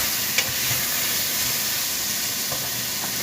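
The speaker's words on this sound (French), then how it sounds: "Mes morceaux de ragoût sont bien rôtis." Pork stew pieces browning in a pan, giving a steady, even sizzle and hiss that carries on without a break, with a few faint stirring clicks and no voices.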